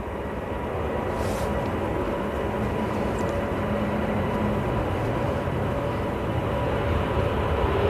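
Jet airliner departing Manchester Airport, a steady distant roar of engines holding at a constant level across the whole stretch, with no talk over it.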